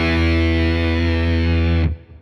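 An electric guitar played through a Keeley Octa Psi fuzz pedal set one octave down with fuzz ahead of the octave: a thick, buzzy sustained tone that rings loud and steady, then cuts off abruptly.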